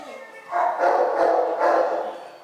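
A dog barks a few times in quick succession during a social-skills assessment with other dogs nearby, loud and close, each bark sustained and slightly strained, with no talk over it.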